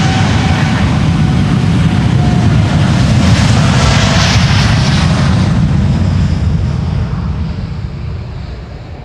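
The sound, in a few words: Boeing 787-9 jet taking off from Amsterdam Polderbaan runway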